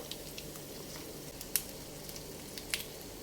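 Corned beef browning in a hot pan, a steady close sizzle and crackle with a couple of sharp spatters standing out, no voices over it.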